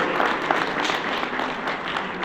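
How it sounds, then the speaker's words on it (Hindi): Audience applause at a Brahma Kumaris gathering in a temple hall, a steady, dense wash of many hands clapping that holds evenly throughout without a break. "जोरदार तालियां आदरणीय दीदी के लिए"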